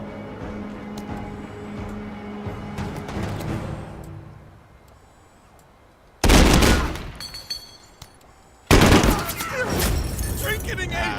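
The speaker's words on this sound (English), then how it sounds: "See the enemies still taking pot shots at us here." Enemy gunfire in a tactical shooter video game, first a muffled distant rattle under talk, then two sudden loud close bursts of shots.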